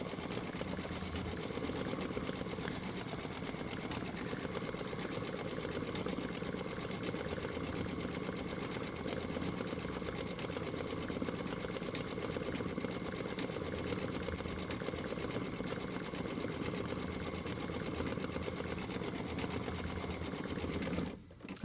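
An embroidery machine stitches the center of a star on a Christmas wall hanging block, a fast, steady mechanical whirring and needle clatter that carries on evenly for the whole stretch before stopping abruptly at the end.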